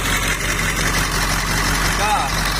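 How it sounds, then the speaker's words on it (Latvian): A car engine idles with a noisy alternator that has a worn bearing, giving a steady, close mechanical hum and whine, with a voice partly over it. "Skaņa izklausās, ka no ģeneratora."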